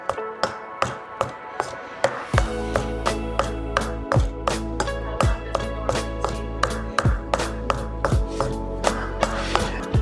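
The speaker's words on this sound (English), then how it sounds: "whenever you hear the noise that this mortar and pestle makes, it's kind of like a pock noise" A mortar and pestle pounding green papaya salad ingredients, starting with quick light taps and moving into a steady rhythm of heavy, hollow thuds about once per second, close and clear with no talking.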